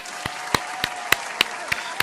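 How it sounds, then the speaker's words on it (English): Sharp claps ring out at a steady, deliberate pace, about eight of them over a couple of seconds, with a faint background hiss. "let's clap it up for FHP, Florida Highway Patrol."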